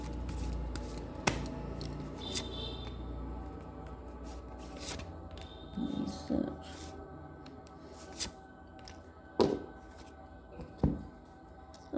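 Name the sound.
shuffling and drawing tarot cards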